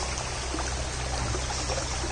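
A clean provincial river flows in a steady, close, unbroken rush of water with no voices over it.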